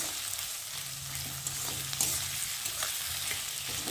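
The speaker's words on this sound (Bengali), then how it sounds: "চলো, পেঁয়াজটাকে একটু ভালো করে নেড়ে দেবো।" Onions sizzling in mustard oil as a steady broadband hiss, with soft scraping and stirring strokes of a spoon in the pan throughout, close and continuous with no talking.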